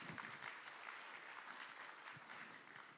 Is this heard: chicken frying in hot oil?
no